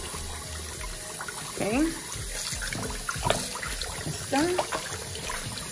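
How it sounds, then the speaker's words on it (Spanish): Raw chicken wings are rinsed under a running kitchen tap, giving a steady close splashing and trickling stream that rises in a few louder gushes, while a person talks briefly over it. "vamos a estar poniendo aquí las alitas en el chorro del agua"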